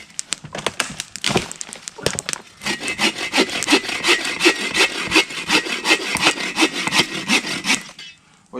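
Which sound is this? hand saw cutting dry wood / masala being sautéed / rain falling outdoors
hand saw cutting dry wood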